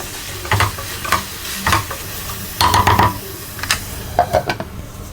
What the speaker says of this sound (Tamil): இப்போ நம்ம தக்காளி ஆட் பண்ணிக்கலாம். இது ஒரு 30 செகண்ட் நல்லா வதக்கிக்கலாம்.